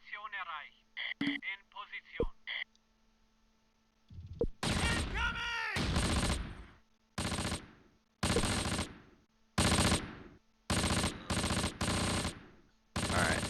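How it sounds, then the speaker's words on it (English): Mortar and gunfire in the Close Combat war game crack in loud, sharp bursts, several separate blasts spaced a second or so apart after a few earlier beeping interface tones, with voices talking in between. "Let's go ahead and drop mortars there."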